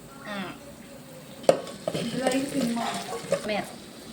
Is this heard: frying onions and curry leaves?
yes